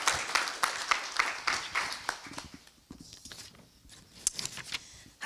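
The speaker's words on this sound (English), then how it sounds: "Please give her another round of applause" Scattered audience applause, a cluster of sharp claps that thins out and fades to a few isolated pats with background noise, no talk over it.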